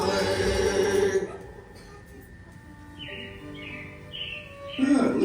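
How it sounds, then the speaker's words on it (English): Animatronic robins chirping in the Carousel of Progress show at Magic Kingdom, a run of bright, short rising tweets after a fading bit of music, with a busy theater murmur underneath. "it looks like the Robins are getting ready to celebrate Valentine's Day today"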